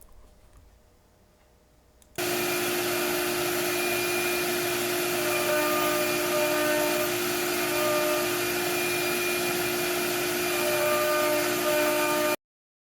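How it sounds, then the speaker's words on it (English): A CNC machine starts holes in wood for a wall-mounted plant starter station, its spindle kicking on after a quiet lead-in into a loud, steady, close whine with tonal hum that runs unbroken until an abrupt stop. "So I'm starting with the CNC"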